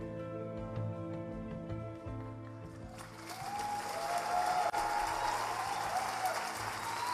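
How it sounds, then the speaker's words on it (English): Audience applause at the Golden Joystick Awards 2019 for the developers and cast of Life is Strange, rising after about three seconds into a dense, sustained wash of clapping over lingering music. "Please keep that heartfelt applause going for the developers and cast of Life is Strange"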